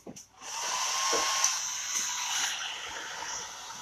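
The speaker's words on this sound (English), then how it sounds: "We're going to hit that with the blow dryer some on cool." A blow dryer on its cool setting whirs steadily at close range after a brief rustle, a continuous airy hum that holds level throughout.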